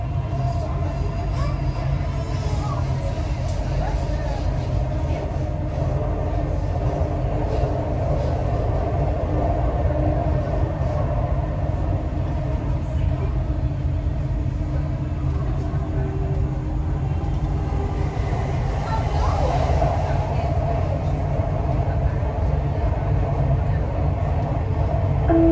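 A Dubai Metro train runs on the line toward Expo 2020, giving a steady low rumble and hum throughout with faint onboard background noise, no clear talk.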